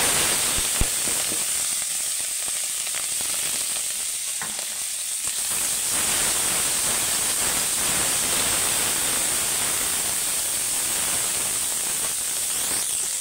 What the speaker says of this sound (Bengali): দেখো তেলটা আমার তেতে গেছে, আমি চিংড়ি মাছটা ভেজে